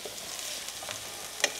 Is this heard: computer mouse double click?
no